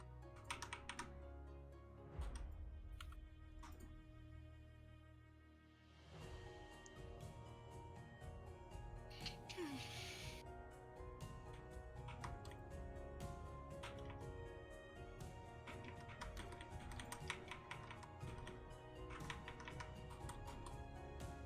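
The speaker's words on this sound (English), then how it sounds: "I'm typing what it says." Typing on a computer keyboard, a quiet, close run of irregular key clicks that carries on almost without pause, with a short lull and one brief louder rustle partway through.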